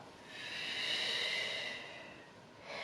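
A long, steady breath exhaled during a yoga session, a soft airy rush swelling and fading over a few seconds, close and alone with no talking.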